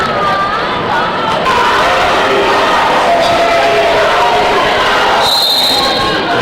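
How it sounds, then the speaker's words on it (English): A varsity cheerleading squad and student crowd at a high school basketball game yell during a timeout, a loud, continuous wash of massed voices and chanting that fills the gym. "NAC varsity cheering squad making sure the crowd stays into this game during them timeouts"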